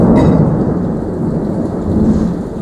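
Thunder from a severe lightning storm rolls continuously, a deep, loud rumble with a rain-like hiss over it, close and unbroken, with no voices.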